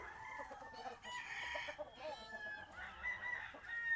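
Chickens and roosters on a breeding farm cluck and call in overlapping bursts, with a rooster crowing, heard from moderate distance at fairly low level.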